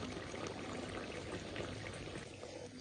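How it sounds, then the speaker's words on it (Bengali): Flour slurry pours steadily into a simmering ridge gourd and prawn curry, a continuous soft liquid splash and bubbling that tails off slightly at the end. "এই ময়দার ঘোলটা আমি দিয়ে দিচ্ছি"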